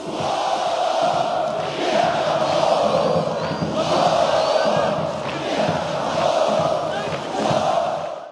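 Figueirense football supporters chant and cheer as a dense, sustained crowd roar, swelling in waves with rhythmic shouting throughout, loud and continuous with no clear individual voices.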